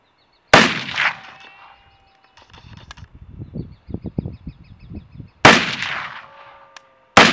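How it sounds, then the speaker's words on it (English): Rifle shots from an AK-47 fired at a 100-yard target outdoors: sharp, loud single reports separated by pauses, with a quieter stretch of knocks and handling noise between them. "let's chuck some bullets down at this 100-yard target over here"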